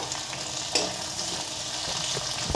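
Bell pepper frying for chow mein, a steady close sizzle of oil in the pan with a brief sharper crackle as the pieces are stirred, no talking.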